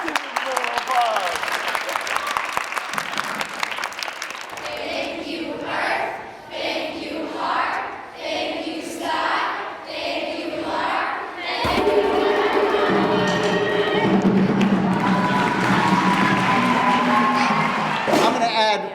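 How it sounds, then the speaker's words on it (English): A crowd claps and cheers for a dance at a City Lore education program, with loud whoops and shouts over steady applause; the noise dips in the middle, then swells again as a voice speaks over it. "Oh, let's give it a little applause."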